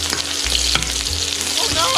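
Garlic sizzling hard in a hot pan for chicken adobo, a loud, steady crackling fry with occasional spatters, close and without talk.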